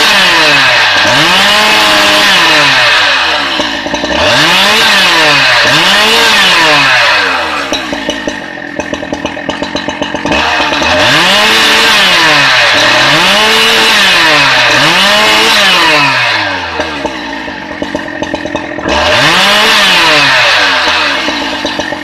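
A chainsaw cuts through large wood, the engine droning loud and near with repeated rising and falling revs as the blade bites in and eases off, no voices.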